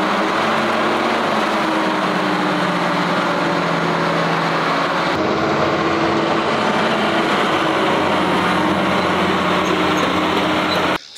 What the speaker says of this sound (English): drive her very first tractor right here, the big old John Deere